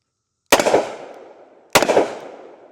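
Two loud, sharp gunshots from a Smith & Wesson 640 revolver at an outdoor range, about a second apart, each with a ringing decay.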